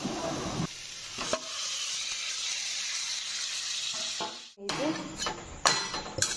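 Onion, ginger and garlic paste with ground cumin, coriander, salt and turmeric sizzles loudly in a frying pan, a continuous hiss broken by scraping stirs and a few clanks of the spoon against the pan.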